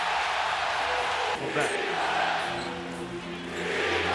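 An NBA arena crowd at a Phoenix Suns vs Milwaukee Bucks Game 6 roars steadily after a dunk, a loud sustained cheer that swells and dips, with a commentator's voice over it.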